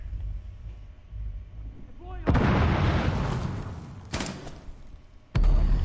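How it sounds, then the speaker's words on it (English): Sudden loud bursts of gunfire and blasts in Rainbow Six Siege hit three times, close and sharp, each trailing off into a rumbling decay, with a player talking in between. "he's shooting at me"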